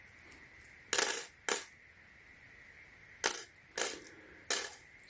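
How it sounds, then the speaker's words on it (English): Metal paper clips snap onto a magnetic data charging cable in five sharp, bright clicks spaced irregularly over a few seconds, close and clear against a quiet background hum. "Pick up all the paper clip."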